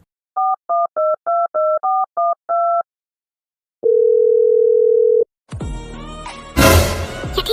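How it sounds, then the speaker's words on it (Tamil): A mobile phone call is placed. A quick run of eight keypad dialing beeps is followed by one long, steady ringing tone, then a burst of loud clattering noise. "போன் அடிக்க கட் பண்ணிட்டால"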